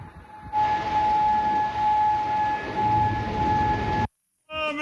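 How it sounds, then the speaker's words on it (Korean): An air raid siren wails steadily across Kuwait City, loud and sustained on a fixed pitch with a second overtone, before cutting off abruptly into brief silence. "쿠웨이트 시티에서 사이렌이 울려 퍼집니다."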